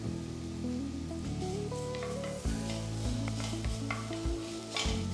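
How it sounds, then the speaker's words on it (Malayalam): Finely chopped carrots and beans sizzle in a hot pan while a spoon stirs and scrapes through them, with the steady fry close and continuous, broken by a few clinks of utensil on metal. "ഇനി നമുക്കിതിലേക്ക് വെജിറ്റബിൾസ് ഇടാം."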